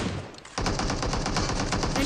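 Video game gunfire bursts out after a short quieter stretch, a rapid, continuous run of close automatic shots with an even, fast rhythm that carries to the end.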